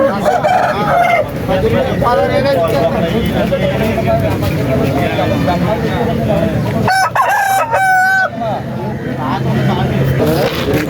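A rooster crows loudly several times at a village chicken market, over a busy background of people bargaining and other birds clucking nearby.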